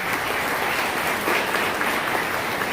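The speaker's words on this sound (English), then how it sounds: "Another big round of applause for them stepping up for public service" An audience at a Muskoka Lakes all-candidates business forum claps in a sustained, even round of applause, broad and roomy, with no talking over it.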